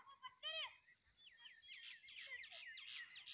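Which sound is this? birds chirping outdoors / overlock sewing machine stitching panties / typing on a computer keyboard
birds chirping outdoors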